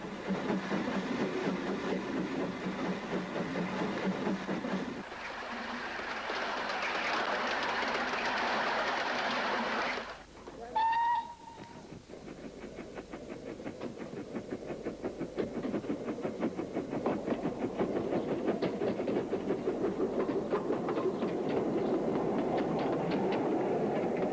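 A miniature railway locomotive on the Romney, Hythe & Dymchurch Railway runs steadily along the track with continuous rumbling and clatter; a brief whistle sounds about halfway through.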